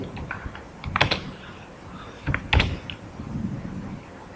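Close computer keyboard typing while entering Java database connection code, with two dense bursts of rapid keystrokes separated by a quieter pause and no talking.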